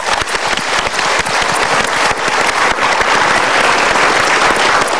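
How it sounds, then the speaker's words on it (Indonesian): A studio audience applauds steadily in loud, dense, sustained clapping that fills the whole stretch without a break or any talking. "Kita berikan tepuk tangan dulu."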